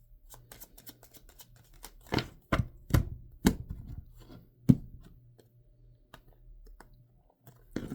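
Tarot cards are handled and shuffled close by in a quiet room, a few sharp slaps and riffling clicks spaced irregularly over a faint steady hum, with no talk.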